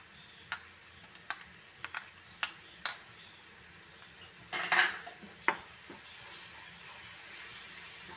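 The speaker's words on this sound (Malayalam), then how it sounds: "ഇതിൻ്റെ പച്ചമണം മാറുന്ന വരെ നമുക്കിത് ഇളക്കി കൊടുക്കാം കേട്ടോ" Ginger garlic paste and shallots being stirred in a pan, with scattered spoon scrapes and clicks against the metal over a faint background sizzle, and no voices.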